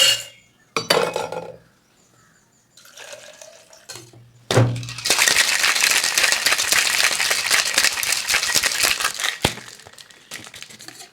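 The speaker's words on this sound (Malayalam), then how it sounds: "30 ml ഷുഗർ സിറപ്പ്, ഐസ് ഇട്ട് നമുക്ക് നന്നായിട്ടൊന്ന് ഷേക്ക് ചെയ്യാം." Cocktail shaker loaded with ice, lime juice and sugar syrup shaken hard for about five seconds, a loud, dense run of rattling ice against metal after a few clinks and knocks of preparation.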